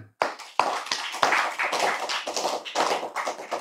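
A small audience at a religious lecture claps in a short, uneven burst of close, sharp hand claps with distinct individual strikes.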